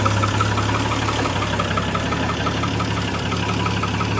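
A 1968 Triumph TR250 engine idles while warming up, with a small exhaust leak in the mid-pipe: a steady low rumble with an even pulsing beat, close and alone, no voices.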